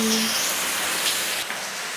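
Water spraying onto potted plants gives a steady rain-like hiss that runs for the whole stretch, close by and fairly loud, with a faint tonal hum early on.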